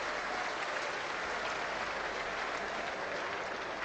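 A cricket crowd at the Gabba applauds England's batting lineup during an Australia versus England Test match, a dense, even roar of clapping sustained throughout from a large stadium audience.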